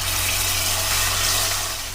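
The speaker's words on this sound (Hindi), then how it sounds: "50 ml पानी डाल लिया है मैंने जार में।" Water poured into a blender jar holding spice paste, a steady broadband pouring rush lasting the whole moment, close and fairly loud with no talking.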